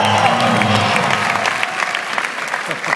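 Audience applause and cheering at a live comedy roast in DC fill the room loudly and steadily for the whole span, with a faint voice under the noise near the start.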